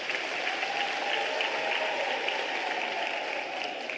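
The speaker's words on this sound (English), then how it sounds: "Let's give the families a round of applause who are sitting this side." Audience at a university graduation ceremony applauding, a steady dense wash of clapping from many people in a large hall that continues evenly throughout without a break.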